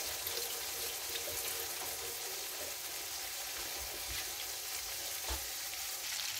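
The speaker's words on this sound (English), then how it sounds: "now I'm just going to sear these on both sides" Cod fillets sear in a hot frying pan, giving a continuous, close crackling sizzle with occasional louder pops throughout, no talking.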